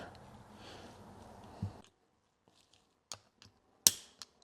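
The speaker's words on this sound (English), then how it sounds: "Let's get a screwdriver and push that down." A part in a T90 transmission rebuild is pressed down with a screwdriver and clicks into place: a few sharp, isolated snaps and taps, one crisp and loud, after a stretch of muffled handling noise.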